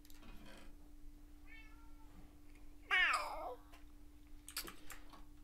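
A cat in the Minecraft video game gives one clear, drawn-out meow near the middle, standing alone over a quiet steady hum with faint clicks around it.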